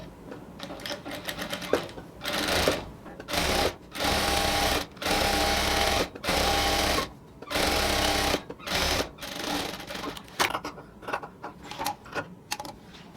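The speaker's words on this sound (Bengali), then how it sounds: "এবার বাকি অর্ধেকটাও আমরা হচ্ছে আবার সেলাই করে নেব এদিকে।" Sewing machine stitching the second half of a salwar pant seam, running in repeated bursts of steady whirring separated by short pauses, close and loud.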